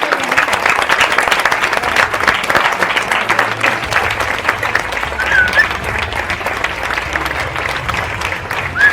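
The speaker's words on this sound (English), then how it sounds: "A round of applause." A studio audience gives a sustained round of applause for the winning team of a university quiz championship final, dense steady clapping that stays loud and even for the whole stretch.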